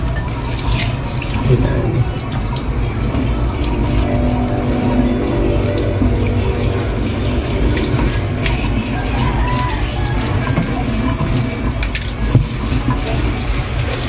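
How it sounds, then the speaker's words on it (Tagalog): Running tap water pours steadily into a sink while pechay leaves are washed one at a time, a loud continuous splashing rush with occasional clinks and a brief spoken word. "So as usual, ganito ako maghugas ng mga dahon-dahon. Iniisa-isa ko para ensure na mahugasan ng maayos."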